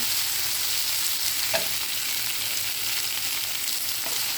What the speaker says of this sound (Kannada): ಕರಿಬೇವು ಸೊಪ್ಪನ್ನು ಕೂಡ ಆ್ಯಡ್ ಮಾಡಿದ್ದೀನಿ ಫ್ರೈ ಆಗಲಿ